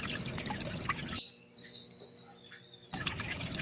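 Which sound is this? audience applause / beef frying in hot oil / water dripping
water dripping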